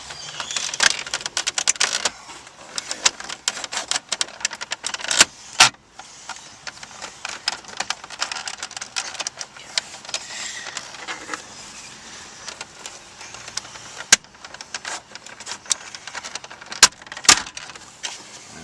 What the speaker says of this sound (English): pry along the bottom edges of this panel, releasing the panel and the clips along the edges of the panel